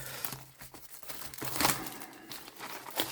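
Plastic wrap on a Magic the Gathering Final Fantasy booster display box crinkles and tears up close, a run of crisp, uneven rustles with a louder rip midway.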